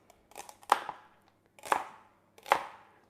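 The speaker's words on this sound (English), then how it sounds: "I'm happy to do this chopping because of what I get." Knife chopping vegetables for spring rolls, three separate crisp strokes against the board, close and clean with no talking.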